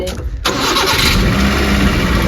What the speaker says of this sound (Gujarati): ચાલુ જ કરો ગાડી.